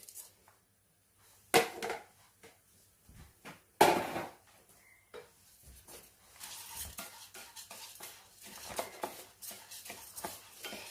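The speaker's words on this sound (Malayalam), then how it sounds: "ഇനി നമുക്ക് അരി ഒന്ന് വറുത്തെടുക്കാം. ചൂടായ പാനിലേക്ക് ഇട്ട് കൊടുക്കാം." Rice dry-roasted in a hot pan over a high flame, with sharp scrapes and clinks of a spoon stirring against the metal pan, a few louder strikes, then a steady, soft rustling and scraping as the grains are turned.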